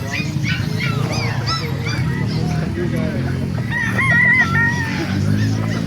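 Several roosters crow over a busy, crowded backdrop of clucking fowl and low chatter at a chicken market in Calumpit, Bulacan, with one louder crow standing out near the end.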